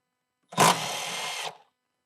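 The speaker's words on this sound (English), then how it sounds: "You want to pull this bolt completely out." A power tool runs for about a second, a short close whir as a bolt is backed out of a carbon fiber cold air intake on a 2020 Ford Mustang Shelby GT500, alone with no talk.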